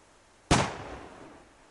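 A single gunshot fired at a target silhouette during target practice in the survival game Subsistence, a sharp loud crack with a decaying tail, standing alone.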